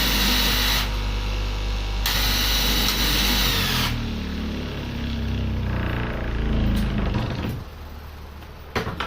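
A power tool cutting a replacement piece runs loud and close as a continuous high whine that shifts in pitch several times, then eases off near the end with a few sharp clicks.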